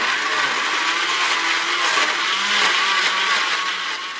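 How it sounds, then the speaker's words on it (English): A countertop blender runs steadily on a fruit smoothie with honey and a couple of large ice cubes, a loud, even whirring roar held without break for several seconds, with no voices. "Put the lid on and blend for about 60 seconds."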